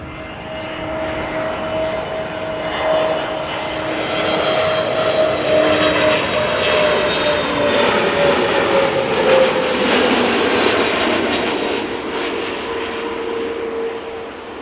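An EasyJet Airbus A320neo arriving at Amsterdam Schiphol roars overhead, a loud, sustained jet drone with a steady whine that swells toward the middle and slowly fades as it passes.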